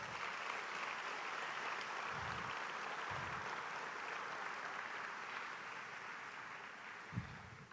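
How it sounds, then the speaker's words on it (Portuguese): Faint, sustained applause from a congregation during a church sermon, a steady distant wash of clapping with no voices on top. "Então dê um aplauso a Jesus."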